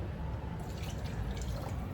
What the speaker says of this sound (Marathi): तर थोडं पाणी टाकते